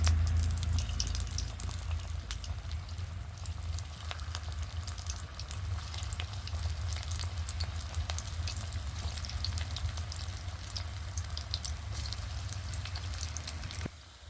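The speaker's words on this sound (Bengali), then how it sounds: "তেল ভালো মতো গরম হয়ে গেছে এবারে স্ন্যাক্সগুলো ভেজে নেব" Snacks deep-frying in hot oil give a steady, dense sizzle and crackle that runs unbroken and close throughout, with no talking.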